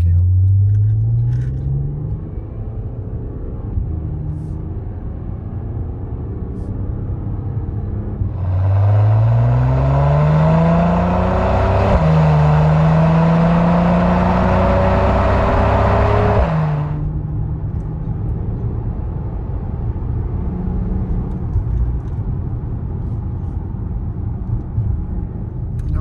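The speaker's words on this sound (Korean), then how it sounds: "마지막 터널 구간 한번 좀 빠르게 한번 주행을 해보도록 할게요" An Audi A7 55 TFSI (C8) accelerates through a tunnel, its engine note rising in pitch through successive gear changes with a surge of louder roar in the middle, heard from inside the cabin under conversation.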